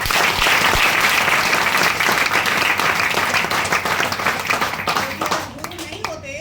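An audience at a DXN meeting bursts into loud, sustained applause, dense clapping that stays strong before thinning out near the end.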